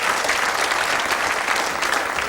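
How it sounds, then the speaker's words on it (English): Audience applause for a model at the 1987 Cinzano Model of the Year contest, a thick continuous crowd clapping that holds at a steady, fairly loud level throughout. "Nice round of applause, please"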